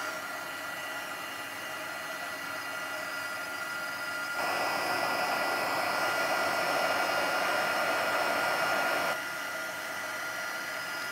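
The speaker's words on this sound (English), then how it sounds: "I'm just heating this up, and then I'll heat it until all those powders melt and become nice and bright and shiny" A heat tool blows a steady broadband hiss as it melts embossing powder on a card, switching louder and brighter for about five seconds mid-clip before dropping back to a softer whir, with no talking.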